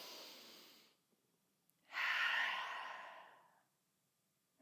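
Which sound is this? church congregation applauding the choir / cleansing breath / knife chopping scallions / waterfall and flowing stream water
cleansing breath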